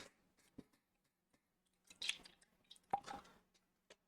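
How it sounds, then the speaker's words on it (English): Water sloshing in a plastic bottle with a loose lid as it is shaken, heard as a few soft wet squishes and drips in short irregular bursts, close and quiet against near silence. "I was trying to shake the water bottle, but it's like, I got a very loose lid"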